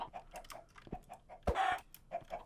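Chickens in the Minecraft game cluck in a steady run of short, soft, repeated calls, faint and spread out, broken by one louder squawk partway through.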